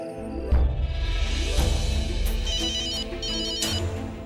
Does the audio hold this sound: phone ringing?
yes